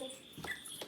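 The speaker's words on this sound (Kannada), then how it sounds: "ನಾಯಿ ಮರಿಗಳನ್ನ?" Puppies give two short, faint whimpers close by in a quiet indoor space, with no clear talking.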